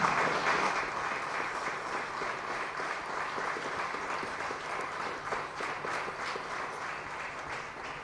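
Crowd applause at a River Plate farewell, when coach Gallardo leaves the club: steady, dense clapping from a large audience that holds level for the whole stretch with no break.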